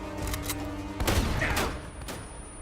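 A short burst of gunshots in the action game Uncharted 1, with a few sharp, loud reports and a booming blast in the middle against a steady background.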